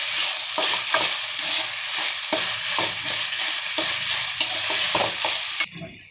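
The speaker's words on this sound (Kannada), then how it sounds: "ಇವಾಗ ಒಗ್ಗರಣೆ ಸ್ವಲ್ಪ ಬೇಯಿಸ್ಕೋಬೇಕು" A pan tempering with field beans sizzles and fries steadily while a spoon stirs it, scraping in regular strokes close up, with no talking.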